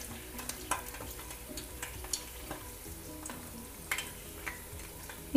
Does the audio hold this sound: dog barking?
no